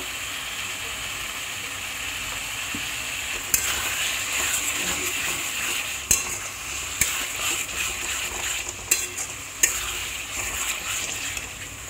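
Spices with salt and turmeric sizzle in a hot pan for a chitol fish dish, a constant frying hiss broken by a few sharp scrapes and knocks of the stirring spoon, close and without talk.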